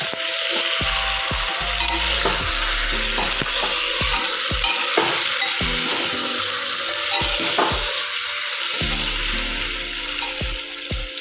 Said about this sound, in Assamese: मांसखिनि মাজে মাজে লৰাই থাকিব। মই এইখিনি অলপ সময় ভাজি ল'ম।